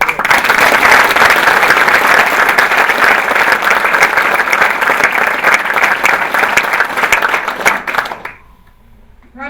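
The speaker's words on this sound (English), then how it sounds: "Round of applause, runners up." Loud, sustained applause from a ceremony audience, dense clapping that fades out near the end into quiet.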